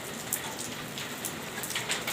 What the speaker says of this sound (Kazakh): Жауын деген жауып жатыр.